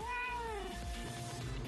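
A pet cat meows once in answer to a call, a clear drawn-out meow that falls in pitch, heard up close and alone.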